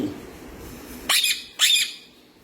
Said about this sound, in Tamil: சித்துக்குட்டி, எது கத்துற? கத்தாத.